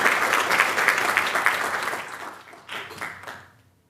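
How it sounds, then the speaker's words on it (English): An audience at a 2023 microbiome conference session applauds the organising committee: loud, crowded clapping that gradually thins and fades out over a few seconds. "I think that deserves a round of applause for the organising committee."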